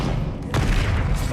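An Incendio fire spell goes off in Hogwarts Legacy, a dense booming whoosh with a sudden burst midway, loud and sustained over a rumbling game backdrop.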